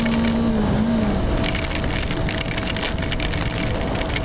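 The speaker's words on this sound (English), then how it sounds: "This rain just came out of nowhere!" Steady, dense rain hisses and patters loudly and close, with a brief low tone at the start.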